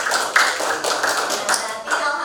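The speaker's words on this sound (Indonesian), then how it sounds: "Kita kasih tepuk tangan." Applause from an audience at a coaching-based school supervision session, a dense steady patter of many hands clapping throughout, fairly close, with some voices mixed in.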